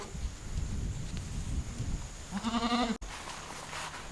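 A goat locked in a barn lets out a single short bleat near the end, following a stretch of rustling and shuffling noise close by.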